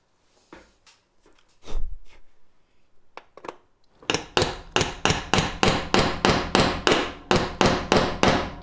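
Rivet nuts hammered on a Land Rover Discovery: a few light taps and knocks first, then a steady run of about fifteen loud, evenly spaced metallic hammer blows close by.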